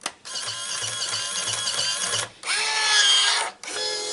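A Powermatic 3 cigarette machine packs tobacco into tubes: two sustained loud mechanical whirring runs, each several seconds long, with a brief pause between them and a rattling, ratchet-like texture throughout.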